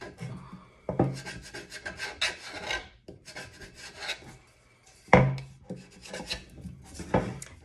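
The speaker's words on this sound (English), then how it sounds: "just scrape, scrape, scrape until you think you're done" Repeated rasping scrapes on a sublimation tumbler being wrapped, close and fairly quiet, coming in uneven bursts with brief pauses between them.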